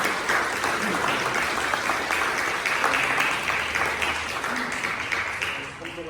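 Congregation applause fills a church service, a steady, dense roar of many hands clapping at moderate loudness that tapers slightly toward the end, with a voice speaking over it.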